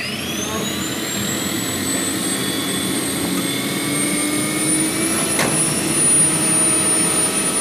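A running Chrysler turbine engine car gives a steady jet-like whine whose high tone slowly climbs, with a short click partway through and a voice faintly under the engine.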